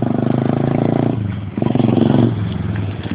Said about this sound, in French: C'est le moteur Honda.